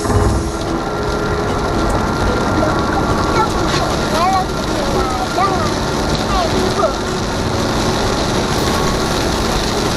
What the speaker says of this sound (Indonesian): Mulai hujan deras.